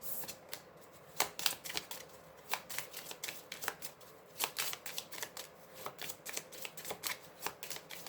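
Tarot cards being shuffled by hand, a close, crisp run of riffling snaps and flicks repeating in quick uneven bursts throughout, with no talking.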